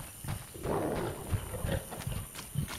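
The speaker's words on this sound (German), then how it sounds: "Das ist ein Wolf." A wolf growls in The Witcher video game, giving low, rough snarls in several short bursts over a steady ambient background.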